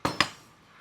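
A spoon knocks twice against a pot of Kerala-style country chicken curry just after coconut milk goes in, two close, sharp metallic clinks followed by a quiet fading tail, with no voices.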